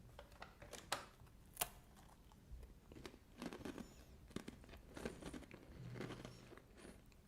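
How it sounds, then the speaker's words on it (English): A hard, crunchy strawberry cream cookie being bitten and chewed up close, with sharp crunches and crumbling bites scattered through the clip and no talking. "Quite a hard and crunchy cookie."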